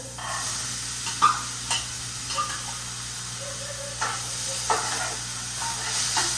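Chana dal and sprouts hit a hot pan with onions, sizzling steadily with a hissing fry and occasional stirring scrapes and clinks.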